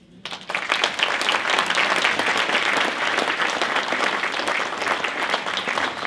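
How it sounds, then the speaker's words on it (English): An audience at a Dale City Civic Association 50th anniversary awards ceremony breaks into sustained applause, starting abruptly and holding a dense, even roar of clapping from a sizable crowd throughout. "Another round of applause for all the great people in Dale City"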